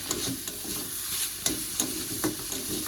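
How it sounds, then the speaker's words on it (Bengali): Leafy greens sizzle and crackle steadily in a hot pan, with occasional stirring scrapes and soft clatters, no voices. "শাক ভাজা করতেছি"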